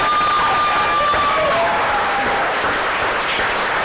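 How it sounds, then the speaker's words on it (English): Loud applause and cheering from an audience at a chef cooking competition in a hotel kitchen theater, dense clapping with whoops and high shouts over it throughout. "Give Chris a big round of applause as well."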